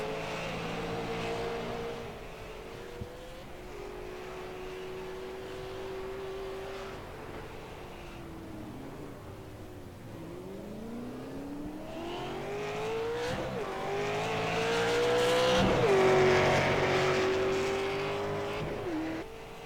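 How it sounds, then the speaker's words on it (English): A sim racing game's super late model race car at Summit Point Raceway, its engine note rising and dropping through shifts and downshifts for about twenty seconds, with tire squeal and revving building loud toward the end. "You can hear that thing downshifting."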